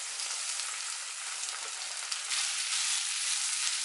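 Chopped gooseberries and green chillies fry in a pan with a steady, dense sizzle that holds even and close throughout, with no voices.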